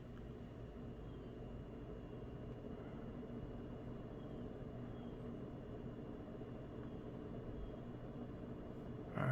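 A ceiling fan with small blades runs at its fastest speed, giving a steady low whirring hum with a constant broadband rush throughout, fairly quiet and unbroken, with a brief louder thump at the very end.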